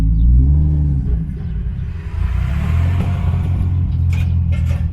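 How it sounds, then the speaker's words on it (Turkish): A Mazda RX-8 built toward 1000 hp, with a JZ engine swap, revs at high rpm on a tuning session, producing a loud, steady, low engine rumble that holds throughout with no speech. "Şimdi çıkan ses seni sanki çok yüksek devir çeviriyormuşsun gibi."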